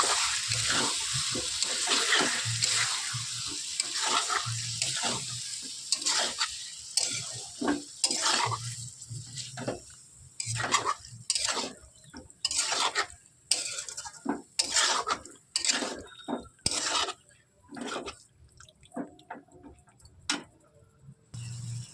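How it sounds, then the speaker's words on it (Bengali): Beef pieces are stirred and fried with masala in a pot for a Kolkata-style beef curry, giving a steady sizzle broken by a long run of sharp, rhythmic scrapes and clacks of a spoon against the pan, close by, with no talking. "চলুন ভালোভাবে একটু কষে নিতে হবে মশলার সাথে"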